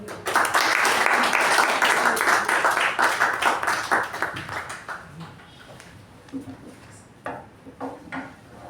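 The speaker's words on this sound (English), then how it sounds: "with a huge round of applause, please give it up for our Master of Ceremonies" Applause from the audience at a Toastmasters meeting greets the Master of Ceremonies, loud and dense for about five seconds and then thinning out into scattered claps, with a few voices in the room.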